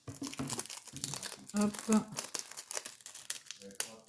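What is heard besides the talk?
tearing sewn paper packaging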